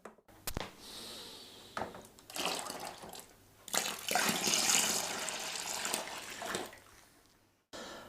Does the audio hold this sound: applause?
no